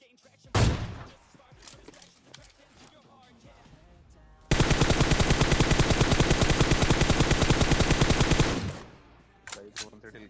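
Gunfire in the mobile battle royale game PUBG Mobile: a single loud shot opens, followed later by a long, sustained burst of rapid automatic fire lasting about four seconds. A few scattered shots follow near the end.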